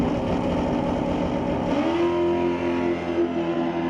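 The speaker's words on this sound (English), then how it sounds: "'65 Chevy, powered by a 406 under the hood." A '65 Chevy drag car with a 406 engine races down the strip, its engine loud and steady, then settling into a higher sustained drone as it pulls away.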